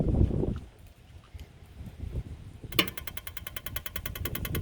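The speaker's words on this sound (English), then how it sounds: "it's firing the gas hot water heater flame" The gas hot water heater of a 2020 Forest River Wildwood 178BHSKX travel trailer igniting outdoors: a faint breezy background, then a sudden burst of rapid, steady ticking that keeps going to the end.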